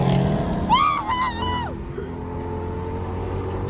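A Dodge Hellcat accelerates past with a rising, high-pitched engine whine and a quick climb through the revs, followed by a fading drone under the steady rumble of a nearby car's engine.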